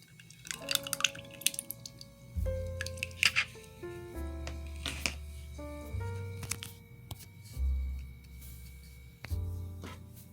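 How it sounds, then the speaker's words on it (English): Cornbread batter of combined wet and dry ingredients is mixed in a bowl, giving repeated wet squishing, sloshing strokes with occasional light clinks, close and fairly quiet, no talk. "Now, just mix it thoroughly."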